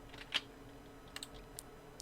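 Computer keyboard keys pressed as shortcuts while working in Illustrator, a handful of faint, sparse clicks and taps spread unevenly over a quiet background.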